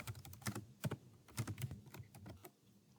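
Computer keyboard typed in quick irregular bursts of clicks while entering a search into a career website, close and clear with no talking.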